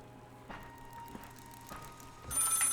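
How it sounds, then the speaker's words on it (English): A telephone rings inside the Maid of Sker horror game, with several short ringing bursts at a steady interval over a quiet hum, ending in a louder, brighter burst. "Answer the phone. Oh, that's a phone."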